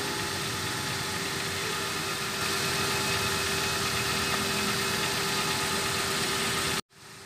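Motorcycle engine running in first gear with the clutch released and nobody aboard, its brake pads removed so the disc rotor spins freely; a steady, fairly loud mid-pitched engine drone with faint rattle, cutting off abruptly near the end.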